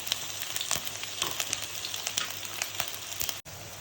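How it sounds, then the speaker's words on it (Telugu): Chopped onions and green chillies fry in about three tablespoons of oil in a pan for a masala brinjal curry, giving a steady close sizzle broken by sharp crackles and scraping as they are mixed. "ఆనియన్స్, పచ్చిమిర్చి వేసుకొని కలుపుకుందాం."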